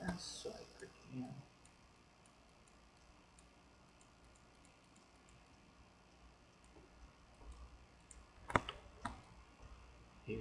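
Sparse, quiet computer mouse clicks while 3D modelling an axe, a few isolated ticks spread over a soft room hush, with a couple of sharper clicks near the end.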